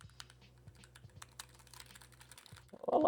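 Keystrokes on a Keychron K5 Max keyboard with brown switches, soft muted taps in an uneven sequence close to the mic, with a faint low hum underneath and a brief noise at the end.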